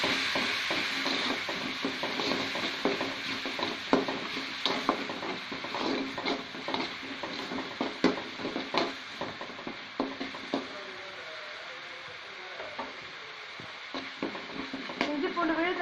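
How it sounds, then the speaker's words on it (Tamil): Ginger garlic paste sizzles steadily in a hot pan for crab gravy, with frequent scraping and clinking of a spoon stirring it, continuous frying hiss under the strokes throughout. "இஞ்சி பூண்டு விழுது நல்லா ஃப்ரை ஆகட்டும்."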